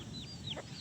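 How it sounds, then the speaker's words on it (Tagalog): A farmyard hen leading her chicks gives a brief burst of soft clucks with thin high cheeps from the chicks, close by in a quiet rural setting. "nara si inahin nagdadala sa kanyang mga sisiw"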